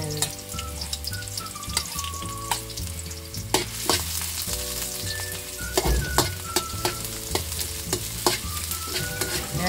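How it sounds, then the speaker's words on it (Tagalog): Metal ladle scraping and clanking against a wok-style pan while pork menudo fries, repeated sharp clatters over a constant loud sizzle, close and busy. "pasensya ulit sa maingay na sandok at kawali"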